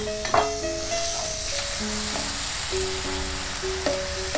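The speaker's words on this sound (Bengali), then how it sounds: "এবার আমরা এটাকে একটু ভাজা ভাজা করব, তাই তো?" Minced chicken frying in a pan on a cooking show, a continuous loud sizzle with faint tonal kitchen sounds layered over it, no one speaking.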